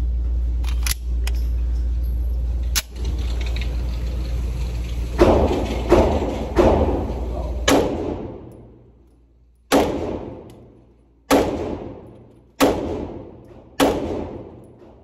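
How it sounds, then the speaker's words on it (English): A CZ Shadow 2 Compact pistol fires five shots at a 15-yard target, each a sharp, loud report with a quick decaying tail, spaced about one to two seconds apart after some softer handling knocks. "that was just 5 shots from 15 yards."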